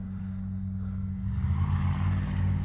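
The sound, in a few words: radio-controlled Tundra model plane flying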